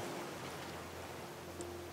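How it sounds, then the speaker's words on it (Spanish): Steady, faint rain hiss falls in the survival game Raft, an even wash of patter with a low hum underneath, no voices. "Está lloviendo, tío."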